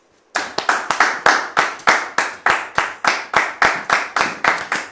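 A small audience claps in a single rhythmic run of about eighteen sharp, evenly spaced claps, close and loud, welcoming a female guest onto a church television set.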